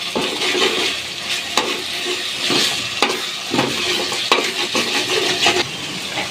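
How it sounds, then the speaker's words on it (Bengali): Onions frying in oil in a pan, a steady bright sizzle broken by regular scrapes and knocks of a spoon stirring, close and clear with no talk. "এইভাবে নেড়ে চেড়ে আমরা পেঁয়াজটাকে লাল করে নিব।"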